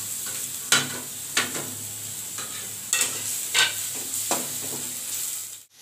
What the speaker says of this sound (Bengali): আমাদের মশলাটা কষানো হয়ে গিয়েছে, মশলা থেকে তেলটা ছেড়ে দিয়েছে